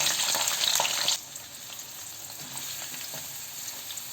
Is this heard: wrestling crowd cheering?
no